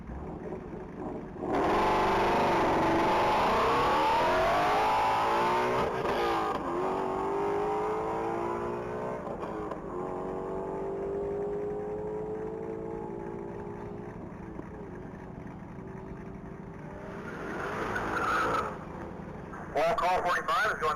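A 2017 Ford Shelby GT350 accelerating down a mile-long top-speed track in Texas, a loud engine roar rising in pitch through several gear changes and then fading as it pulls away, with an announcer talking over it.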